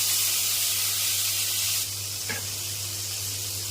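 Drumstick pieces fry in hot oil for a Telugu dried fish and drumstick curry, a steady loud sizzling hiss that drops slightly partway through, with a low constant hum beneath and no talk.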